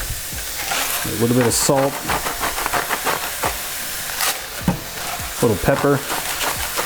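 Ground turkey for burritos sizzles and hisses steadily in a hot pan, a continuous bright frying crackle close up, with a person talking over it.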